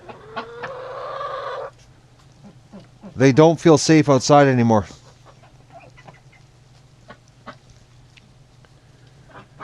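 Ducks gathered inside a coop on a cold morning, with a burst of loud quacking and squawking in the middle, under and after a person talking.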